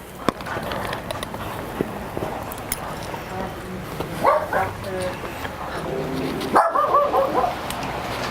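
A dog barks and yips a few times amid background talking and movement, the barks fairly close and intermittent.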